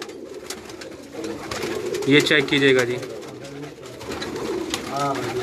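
Kalpote pigeons on a Karachi rooftop coo in soft repeated throaty calls, loudest in the middle, while someone talks close by.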